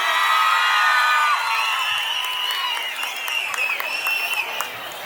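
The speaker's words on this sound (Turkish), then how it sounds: "Hep birlikte Turgutlu ıslık çığlık alkışla konser devam ediyor" A concert crowd at a Victory Day celebration in Turgutlu roars with applause, shrill whistles and screams, loud and sustained before easing slightly as scattered cheers continue.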